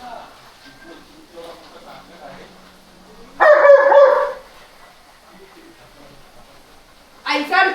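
A dog lets out a loud burst of barks, then another short burst near the end, with quieter whimpers and background sounds between.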